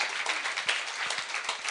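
A church congregation applauds in dense, continuous clapping that stays fairly even for a couple of seconds, with no voices over it.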